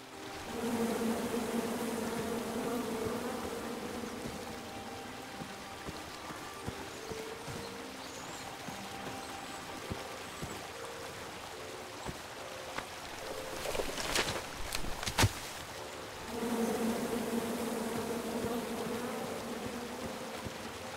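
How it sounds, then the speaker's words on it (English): Steady insect buzzing of bees from King's Quest, a continuous mid-pitched drone filling most of the stretch, dipping briefly while a few sharp clicks and game sounds cut through before the swarm hum returns. "Come at me, bees!"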